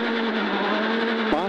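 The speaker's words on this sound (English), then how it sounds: "Listen to the Jazz rev." Honda Jazz rally car at a rally stage start, its freshly rebuilt in-house engine holding a steady, buzzing high-revving note close by, with a brief sharper blip near the end.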